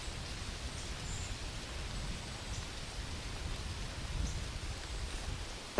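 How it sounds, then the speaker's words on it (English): Steady, dense hiss of heavy rain falling continuously in Illinois woods during archery season, with a low rumble underneath and no pauses. "the unrelenting rain intensified."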